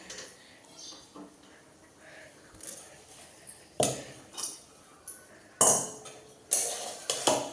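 A spoon stirs a cooked vegetable with garlic and salt in a pan, making a run of sharp metallic clinks and knocks with scraping between them, close and clear, growing busier toward the end.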